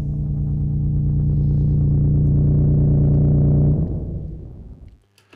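A sustained low tone from a modular synthesizer setup holds steady and loud, then slides downward and decays to near silence in its final second.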